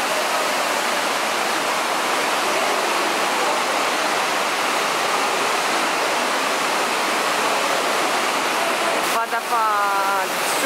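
Waterfall inside Stopica Cave, a steady broadband roar of falling water that holds throughout, loud and close, with a brief bright whistling burst near the end.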